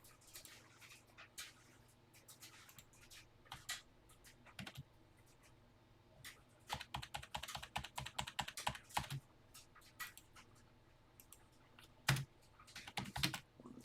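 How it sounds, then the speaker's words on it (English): Keys clatter on a TI-99/4A home computer keyboard as a BASIC program is typed in, with irregular bursts of close, crisp clicks, some faster runs and pauses, no voices. "going to type it exactly as written"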